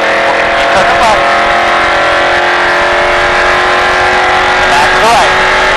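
A NASCAR race car engine howling at full throttle on a Las Vegas track, loud and sustained from close inside the car, with brief pitch shifts as it lifts off and a voice talking over it.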